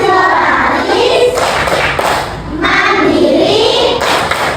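Young pupils in a classroom keep up a unison chant punctuated by steady, forceful group hand claps, the beat thudding along under their loud, sustained voices.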